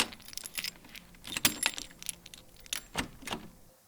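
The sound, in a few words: house key turning in door lock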